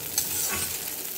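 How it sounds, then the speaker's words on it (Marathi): Colocasia leaf rolls fry in hot oil, giving a dense, even sizzle close up as they are stirred around the pan. "असं हलवून घ्यायचं, चांगल्या शिजवून घ्यायचं ह्याच्यामध्ये तेलामध्ये"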